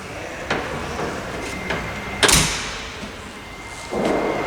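Door of a Jeep Gladiator pickup closed gently: a few soft thumps and a brief louder latch impact near the middle, followed by quiet rustling, with no slam.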